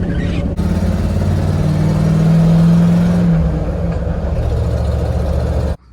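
A car engine rumbles loudly through its exhaust with a steady low drone, swelling slightly before easing back, then cutting off abruptly at the end.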